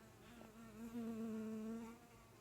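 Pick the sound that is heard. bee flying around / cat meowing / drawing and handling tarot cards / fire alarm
bee flying around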